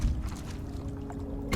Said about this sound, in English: get our water pump deployed here